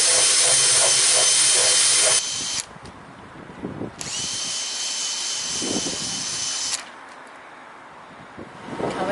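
A power drill drives screws to repair a sail foil, whining loudly in several long bursts separated by short pauses, close by with wind in the background.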